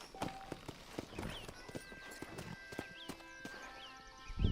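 A horse's hooves clip-clop in a video game, with sharp, irregular close hoof strikes and a few faint bird chirps behind them.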